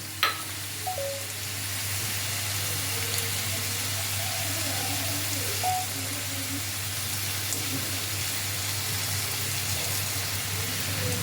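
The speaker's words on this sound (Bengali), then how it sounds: "আদা রসুন কুচিটা ভালোভাবে তেলের মধ্যে ভেজে নিতে হবে" Chopped ginger and garlic fry in hot oil with a steady, soft sizzle that holds evenly throughout, with faint scattered clinks over a low background hum and no talking.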